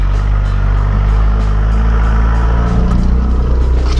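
A small 4x4 engine drones loud and close while climbing steep off-road ground, a steady low rumble that strains slightly louder toward the end, with no talk over it.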